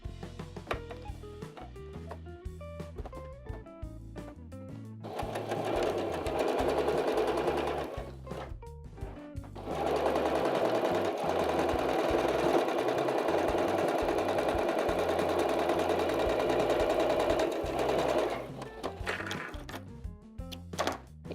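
Sewing machine runs a straight seam on a kitten-themed crib bumper, with two long loud bursts of steady whirring stitching between short pauses and handling noises, no talk.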